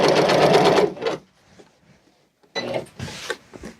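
A sewing machine stitches cord onto a curtain in two short bursts of rapid needle chatter, close and clear, separated by a brief pause with faint handling noise.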